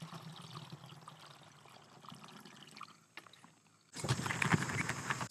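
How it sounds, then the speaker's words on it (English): 27% hydrogen peroxide is poured into a spray bottle, first as a soft, faint trickle and then a sudden louder gurgling splash for the last second or so, close up. "I'll pour it into a spray bottle."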